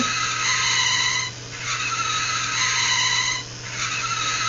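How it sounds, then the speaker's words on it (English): A small fischertechnik model vehicle driven by a TXT controller brakes and slips while trying to turn, giving two sustained high squealing screeches separated by brief dips, under a steady low motor hum. "braking sounds all the way"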